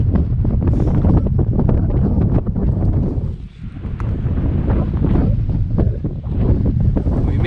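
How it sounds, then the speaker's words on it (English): Strong wind gusting across a mountain-top overlook, loud buffeting roar against the microphone that rises and falls throughout, easing briefly midway before surging again. "It's really windy today."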